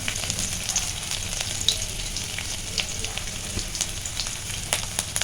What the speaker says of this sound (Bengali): পাঁচফোড়নটা হালকা ভেজে নেব আর দিয়ে দেব অল্প করে রসুন